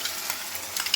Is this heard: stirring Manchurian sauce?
yes